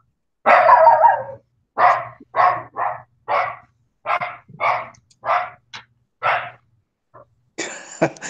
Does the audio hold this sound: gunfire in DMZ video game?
no